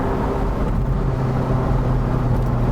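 A Ferrari 348 engine drones steadily from inside the moving car, a loud, even low rumble that holds without any clear revving for a few seconds.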